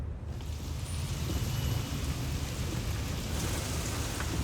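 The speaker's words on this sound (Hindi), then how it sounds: "अरे वाह, बारिश।" Steady rain pours down in a busy market street, a dense, continuous hiss with a low rumble underneath, loud and close, with no voices.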